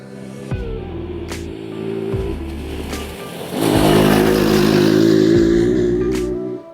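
A homemade 50HP Ford F150 Power Wheels rounds a corner with a steady engine drone that swells louder and closer partway through, then holds near and strong, with no talking.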